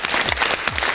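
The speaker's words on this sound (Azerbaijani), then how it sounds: "Bu gün necə gözəl alqışlayaq bu dostumuzu." A studio audience bursts into dense, steady applause for a young boxer celebrating his birthday, the clapping loud and close and filling the whole moment without any voices over it.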